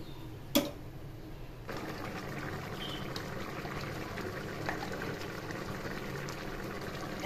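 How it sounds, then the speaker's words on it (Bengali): Prawn and pumpkin curry with about one and a half cups of water reducing in a pan on a gas flame: a steady, faint bubbling simmer, with a brief knock early on. "জলটা একটু শুকিয়ে নেব"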